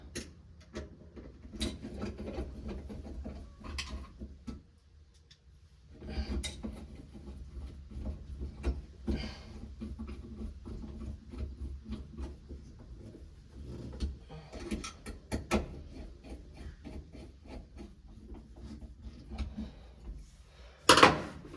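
A Mopar floor shifter is screwed onto its bracket mounts during an A/B/E body center console conversion, with scattered soft clicks, taps and knocks of hand work on metal, close and fairly quiet, with gaps between.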